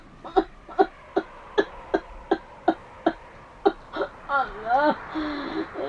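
A man coughs in a radio drama: about ten sharp, evenly spaced hacking coughs, close and loud. They end in a strained, moaning groan of the voice.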